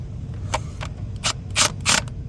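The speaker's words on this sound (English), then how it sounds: "Using the Milwaukee impact right now. Just a simple basic impact with a 9/16 bit." A Milwaukee impact driver with a 9/16 bit torques down bolts in a star pattern, firing several short, sharp rattling bursts against a low background rumble, each louder than the last.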